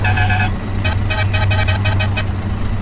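A truck horn in the Euro Truck Simulator 2 driving game sounds in one long blast, then a series of short repeated honks over a steady low engine rumble.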